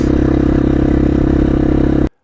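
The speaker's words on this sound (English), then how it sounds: "So this is about the sound the motorcycle would be making if I was riding it normally." A motorcycle engine runs at normal riding speed on the road, a loud, steady, throbbing drone with rapid regular pulsing that cuts off abruptly at the end.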